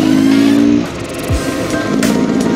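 A street-legal Beta X Trainer 300 two-stroke motorcycle cruising along, its loud, steady engine drone close by with a brief rising whine as the rider rolls on the throttle.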